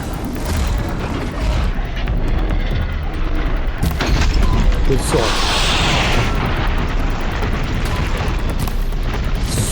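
Continuous heavy booms, blasts and gunfire from a boss fight in the video game Horizon Zero Dawn, loud and dense throughout, with someone speaking briefly over it.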